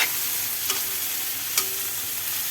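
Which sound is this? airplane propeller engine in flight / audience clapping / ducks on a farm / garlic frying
garlic frying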